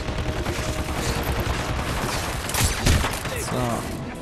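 Gunfire in Hitman Absolution, a dense rattling burst of shots filling the whole span with a louder cluster near the end, with voices talking over it.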